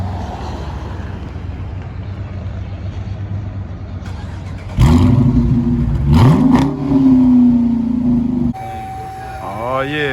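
A 2019 Dodge Charger R/T with a 5.7 Hemi and active exhaust, stock mufflers still fitted, sits near quiet background hum before the engine fires with a loud bark and settles into a throaty idle, then cuts off abruptly.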